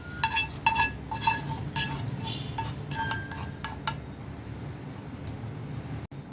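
Tempering poured into a pot of green tamarind rasam, with a series of bright metallic utensil clinks and taps early on, then a quieter stirring swish, close and moderately soft, no talking.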